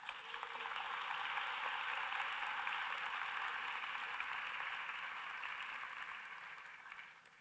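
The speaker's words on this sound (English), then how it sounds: "You might want to applaud your family," Audience at a university commencement ceremony applauding, a faint, distant wash of steady clapping that swells, holds for several seconds, then fades.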